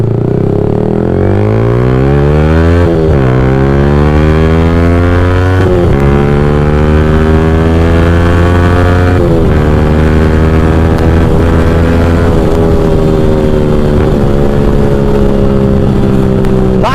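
A Yamaha R15 motorcycle ridden hard, its engine loud and close, revving up through repeated gear shifts with the pitch climbing and dropping at each change.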